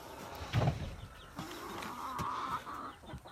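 Leghorn chickens being moved give soft, scattered clucks and murmurs, with one louder burst near the start and a faint drawn-out call later, over low background noise.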